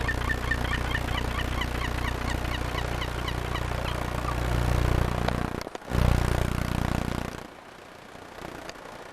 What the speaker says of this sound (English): With a seagull enjoying his supper.